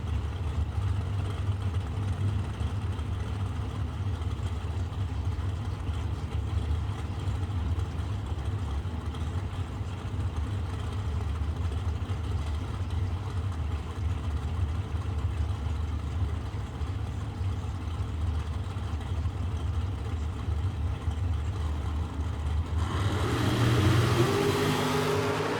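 Dragster engines at a drag race rumble steadily at idle in a low, dense roar for a long stretch, then surge louder and brighter as the cars launch near the end.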